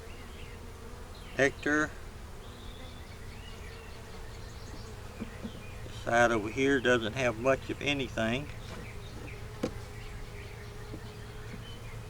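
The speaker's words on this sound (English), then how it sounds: "But here we have our bees." Honey bees hum steadily on a hive frame holding pollen and nectar, a close continuous buzz under a person speaking intermittently.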